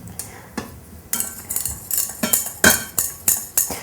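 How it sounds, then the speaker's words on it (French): A utensil stirs melted chocolate in a saucepan over a bain-marie, making a series of rhythmic metallic clinks and scrapes against the pan, loud and close, with no talking. "on va pouvoir maintenant mélanger notre chocolat qui est fondu."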